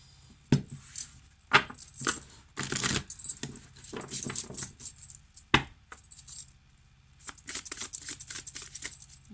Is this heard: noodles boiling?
no